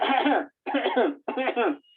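Three short, harsh coughs in quick succession, close up, each a rough burst separated by brief pauses.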